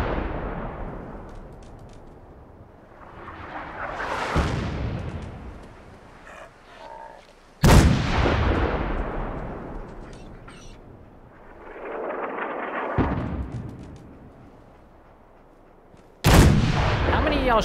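Heavy artillery fire in the game Fallout 4 during a castle battle, with loud booming impacts landing every few seconds, each followed by long rumbling decays, and scattered gunfire in between.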